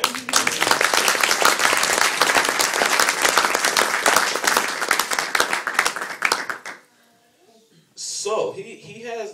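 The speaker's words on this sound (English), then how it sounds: "let's give him another round of applause for that" Audience at a drum clinic breaks into loud, dense applause lasting several seconds, then it cuts off abruptly. After a short pause a voice comes in speaking.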